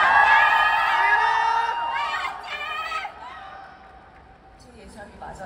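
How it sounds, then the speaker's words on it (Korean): Crowd cheering and whooping at an outdoor stage greeting during the Busan International Film Festival at the Busan Cinema Center, loud and shrill at first, then fading to a lower murmur. "저는 저희 팀에 대한 환호가 제일 큰 거라고 생각했거든요"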